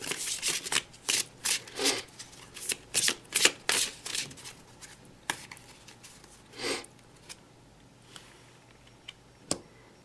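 Tarot cards shuffled close up in a series of quick crisp riffles and bursts, loud at first and thinning out into sparse single flicks and taps near the end, with no voices.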